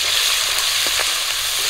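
Bay leaf, panch phoron, slit green chilli and chopped onion sizzle loudly and steadily in hot oil left over from frying fish, a close, continuous crackle with no talk.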